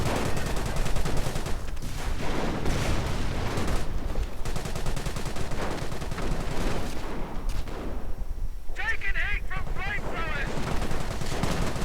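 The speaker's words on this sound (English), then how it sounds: "Stuarts are taking heavy fire from that light tank" Rapid bursts of machine-gun and rifle fire rattle continuously through a video game battle, with a light tank exchanging shots with Stuart tanks amid dense layered gunfire and explosions.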